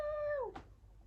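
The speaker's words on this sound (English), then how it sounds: "That's my cat." A pet cat lets out a single clear, drawn-out meow that slides downward in pitch, close to the listener, ending in a brief breathy trail before quiet room tone.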